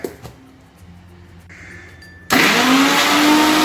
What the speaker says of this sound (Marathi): मिरची, लसूण, आलं आणि कोथिंबीर मी मिक्सरला आता फिरवून घेते।